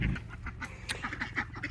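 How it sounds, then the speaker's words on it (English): Ducks feed on soggy yams in a winter garden, giving a run of soft quacks and wet dabbling, pecking sounds close by, with no talk. "watch our ducks eat some soggy yams"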